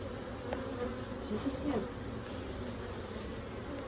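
A large swarm of bees buzzing steadily inside a barn in Jarrell, Texas, a dense, constant drone close by, with a brief voice speaking over it.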